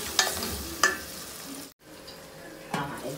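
Two ripe tomatoes with salt sautéing in a pan for a tamarind curry, giving a steady sizzle with a few sharp stirring scrapes of a spoon against the pan.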